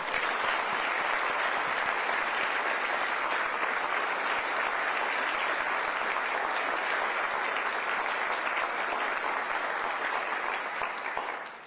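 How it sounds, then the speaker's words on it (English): Steady, sustained applause from a sizable audience at a First Lady Melania Trump event fills the whole stretch, dense and even, fading slightly at the very end. "Please, another round of applause."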